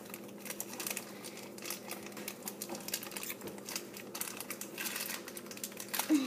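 Crinkly plastic blind bag from a LOL Surprise doll being handled and torn open up close, a continuous busy crackling and rustling of thin wrapper with no talking.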